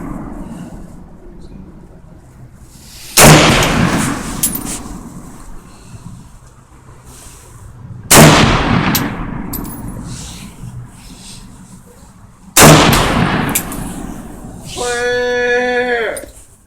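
Three loud gunshots ring out at an outdoor shooting range, spaced roughly five seconds apart, each with a sharp crack and a trailing echo, while people talk nearby.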